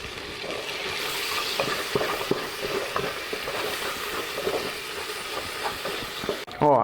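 Onion, garlic and bacon sizzle in a pan with steady crackling frying noise and a few stirring clicks and scrapes, ending with a brief louder clatter; no one speaks.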